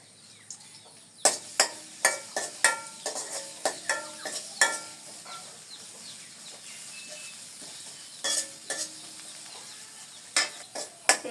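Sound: garlic and onion frying in oil

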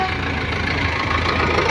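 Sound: tractor engine running

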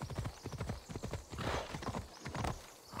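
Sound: horse walking in video game Assassin's Creed Odyssey

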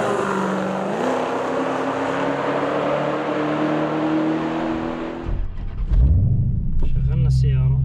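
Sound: Dodge Challenger Hellcat engine starting

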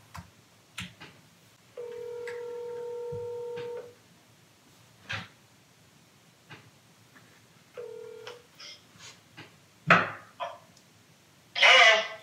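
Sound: telephone call on speaker, automatic voice

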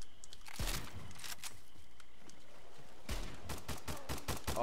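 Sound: gunfire in the video game Stalcraft

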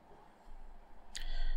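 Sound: mouse click on restart button in Windows

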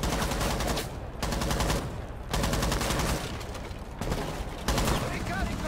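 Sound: gunfire in the video game Rainbow Six Siege

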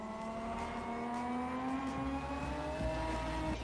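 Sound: car engine revving at top speed, Night Runners video game

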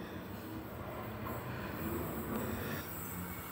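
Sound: Sydney H set electric train passing platform

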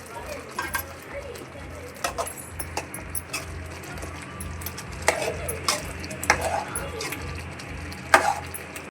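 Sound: brinjals added to onion paste in pan

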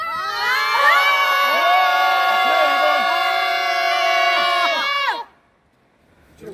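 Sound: group shouting a cheer together for five seconds

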